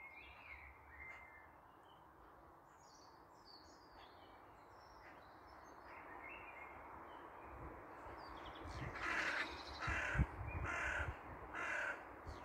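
Crows and magpies squabble over territory in the trees, with harsh caws and chattering calls overlapping at a moderate distance, growing louder and busier toward the end.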